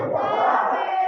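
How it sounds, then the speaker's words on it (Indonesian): A crowd at a school environmental outreach session erupts in a loud, sustained cheer with a dense burst of voices for a student who answered correctly, filling the whole moment without a break. "Tepuk tangan untuk Mas"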